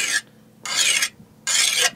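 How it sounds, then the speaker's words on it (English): A chainsaw file is drawn along the edge of a hardened steel knife blade in three loud, close, raspy strokes, with short silent gaps between them and no talking. "I take a chainsaw file and"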